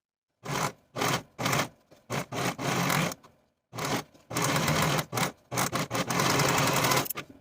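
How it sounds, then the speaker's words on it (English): A serger overlocks the inner edges of a blouse facing, running in repeated loud bursts of steady whirring stitching separated by short pauses. "Now I'm going to take the inner edges of my facing to the serger and finish all the way around"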